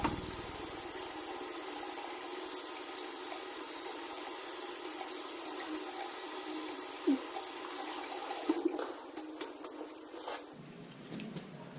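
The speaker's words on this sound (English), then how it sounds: "Let's get the face wet." A tap runs steadily into a sink as water is splashed on the face before a shave, a close continuous rush that shifts and cuts off near the end, leaving faint drips and handling noises.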